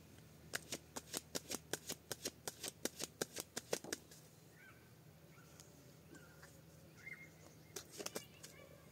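Tarot cards are shuffled in a quick run of crisp, evenly spaced riffling snaps, close and fairly quiet, followed by a few softer, scattered card flicks and rustles near the end.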